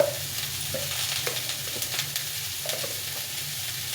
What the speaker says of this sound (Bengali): ফুলকপিটা বাজা হচ্ছে